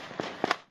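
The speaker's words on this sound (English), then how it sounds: "Neighbours had lit illegal fireworks and flares in the street." Illegal fireworks and flares set off in a suburban Melbourne street at midnight on New Year's, heard as two or three sharp, close pops in quick succession.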